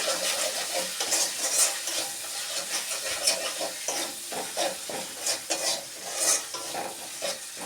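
Cumin powder masala sautés in a pan over medium heat before dal is added, with a crackling sizzle broken by frequent scraping stirs and soft utensil knocks close by.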